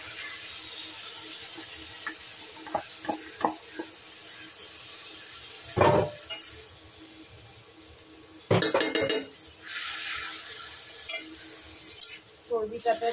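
Fatty mutton pieces with yogurt go into a nearly oil-free kadai and are stirred: metal scrapes and clinks, a few sharp knocks, and bursts of sizzling against steady kitchen background.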